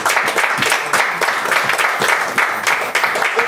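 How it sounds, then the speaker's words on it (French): A church congregation claps in a lively, rhythmic way during a Paris worship service, the beats falling in a quick, fairly regular pattern, loud and close, with no talking over them. "Acclamons pour Jésus"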